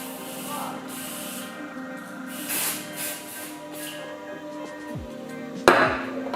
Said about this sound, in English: what I like to do is I like to hairspray it